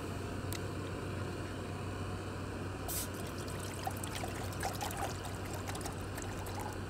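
Water pours steadily from a container into a small pot on a portable gas stove for coffee, a continuous close trickle over a low burner hiss with no talking.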